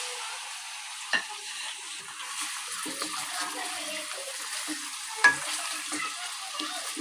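Chicken leg pieces fry in oil in a karahi, giving a soft, steady sizzle with occasional wet splashes and a couple of sharp metallic clinks, fairly quiet throughout.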